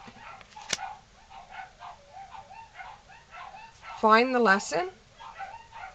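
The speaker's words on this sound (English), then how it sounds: "The dogs are barking." Dogs from a household of three bark, yip and whimper in short bursts, with a louder run of yelping near the end, while a person speaks over them.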